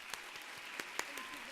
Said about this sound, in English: Please join me in applauding the Junior League of Northern Westchester.